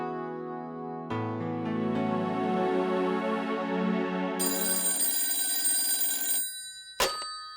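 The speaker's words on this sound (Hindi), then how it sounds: "घर के नंबर पे फोन कर लेती हूँ।" A telephone rings when a home landline number is called, a bright electronic ringtone rising in layered tones for several seconds before cutting off, followed by a brief click.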